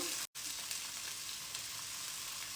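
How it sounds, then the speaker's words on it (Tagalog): Mushrooms frying in a pan alongside beef for beef steak, a close, steady hiss and crackle of sizzling oil broken by one brief silent cut near the start, with no voices. "ilalagay ko na rin yung ayun, mushroom"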